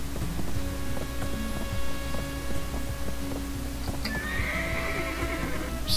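A horse whinnies in a long rising cry over steady game ambience and low hoof clatter, loud and close, with no talking.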